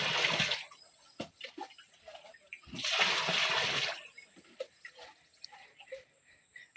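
Water poured out in two loud rushing bursts for a bath from a brass vessel, splashing as if over a body, with quieter drips, knocks and handling noises in between.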